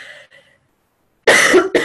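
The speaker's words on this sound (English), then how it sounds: "Excuse me, I'm going to cough here." A woman coughs close to the microphone during an interview, two harsh bursts after a brief faint breathy sound and a moment of silence.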